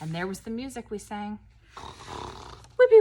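In a first-grade music lesson, a teacher speaks a few words, then a voice imitates a bear snoring with a breathy, rasping inhale-like rush, followed by the start of more speech.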